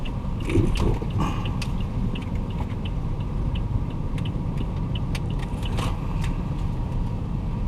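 An automatic car moving through city traffic during a driving lesson, a steady interior engine and road hum with scattered clicks and small mechanical ticks, no talking.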